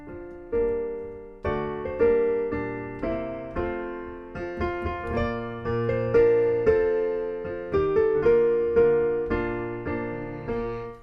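A solo piano plays a slow, steady melody of "The Star-Spangled Banner" over chords, each note ringing and fading before the next.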